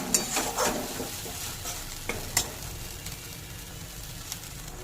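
Stirring pointed gourd curry with yogurt in a pan makes a few soft scrapes and clinks of a utensil against the pan near the start, then fades to a faint, steady sizzle.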